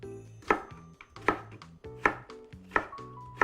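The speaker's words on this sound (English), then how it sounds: "we'll go ahead and we'll recut it into thin julienne pieces" A knife cuts ingredients into thin julienne strips for a California sushi roll, giving five evenly spaced crisp chops on a board, close and clear with no talk.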